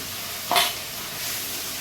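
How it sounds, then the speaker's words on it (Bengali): Ginger garlic paste fries in a pan for fish curry, giving a steady soft sizzle with one brief louder hiss as it is stirred. "এটা একটু লাল করে ভেজে নেবো।"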